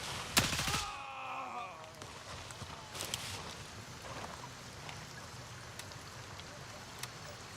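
Sharp gunshot bursts in the military shooter Gray Zone Warfare, a loud close volley at the start and then scattered single shots further off, with a voice speaking over the firing.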